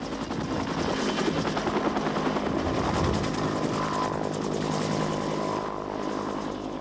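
A military helicopter flies in the Bougainville conflict in Papua New Guinea, its rotor beating a steady, loud, rhythmic thudding over a rumbling engine drone that eases slightly toward the end.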